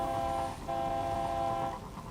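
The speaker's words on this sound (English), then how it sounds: "I do actually like honking my horn at people when going past them." Speeder horn in the video game Destiny, a loud sustained train-like honk that blares almost without a break, dipping briefly twice.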